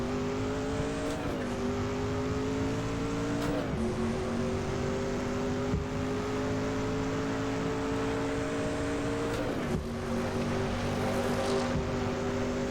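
Sustained roar of a Group C race car in a racing game on a rain-soaked track, engine note climbing steadily between three sharp gear shifts, constant wet spray hiss underneath, loud and close with no speech.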